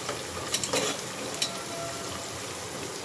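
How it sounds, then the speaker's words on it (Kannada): Soaked dried peas roasting in oil in a pan, giving a soft, steady sizzle with a few light stirring scrapes and clinks near the middle. "ಸ್ವಲ್ಪ ಇದು ಎಣ್ಣೆ ರೋಸ್ಟ್ ಮಾಡಿದ್ರೆ ಅದು ನೀಟಾಗಿ ಬೆಂದಿರುತ್ತೆ"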